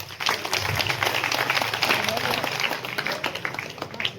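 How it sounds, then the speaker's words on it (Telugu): Crowd clapping for performers at a drug-awareness event in a Bhadrachalam colony, a busy burst of applause close by, mixed with crowd noise and a voice speaking over it. "వాళ్ళకు ఒకసారి క్లాప్స్ ఇవ్వండి."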